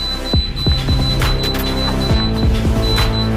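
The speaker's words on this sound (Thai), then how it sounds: "สามารถเลือกเสียงได้นะครับ เสียงเตือนนะครับ" Rapid electronic beeps and chirps in quick succession, a synthetic warning tone from an OBD2 LCD gauge cycling through several short pitched patterns, loud and close.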